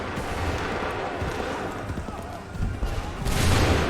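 A musket volley fired on command in Assassin's Creed 3, a burst of overlapping gunshots amid battlefield noise and shouting voices, swelling louder toward the end.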